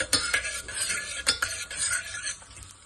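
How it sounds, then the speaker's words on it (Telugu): Cumin and mustard seeds fry in a pan of oil for a Telugu ivy gourd curry, with a steady soft crackle under repeated scraping stirs of a utensil against the pan, close by and with no voices. "నేను దీంట్లో జీలకర్ర, ఆవాలు వేసుకొని వేయించుకుంటున్నాను"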